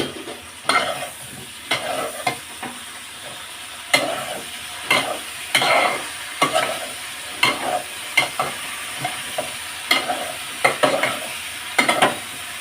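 Food sautéing in a pan sizzles steadily while a spoon stirs it, with repeated clear scraping strokes against the metal over constant frying hiss and no talking.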